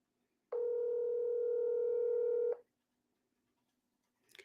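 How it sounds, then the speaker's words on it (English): A single steady electronic phone tone sounds for about two seconds, clean and clear, then stops, leaving near silence with a faint click at the end. "let's see if we can reach her on her phone here"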